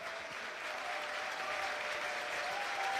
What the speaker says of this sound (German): der kriegt hier auch den warmen Beifall ab